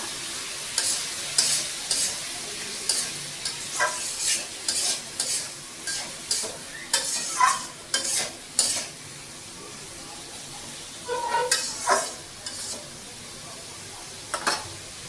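Sliced bitter gourd and potatoes fry in spiced masala in a home kitchen, with a spoon stirring and scraping the pan in repeated bursts over a faint steady sizzle.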